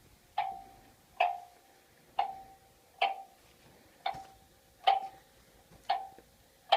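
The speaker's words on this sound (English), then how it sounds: "You can hear the ticking" An English tall clock with a moon calendar ticks steadily, eight crisp, evenly spaced ticks close to the microphone in a quiet room.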